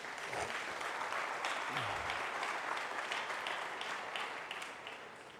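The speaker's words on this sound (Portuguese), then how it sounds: "um aplauso mais uma vez a Jesus" A church congregation applauds during a Portuguese-language sermon, a dense, steady wash of clapping from many hands that fills the space, holding level throughout and easing slightly at the very end.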